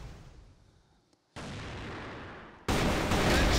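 Gunfire in a Counter-Strike match during a competitive esports game, with a faint shot early, then two loud sustained bursts of close firing that abruptly step up in intensity, no talk.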